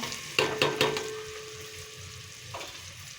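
Onions dropped into hot oil in a pan, three quick clattering drops followed by a soft steady sizzle, with one more faint knock near the end.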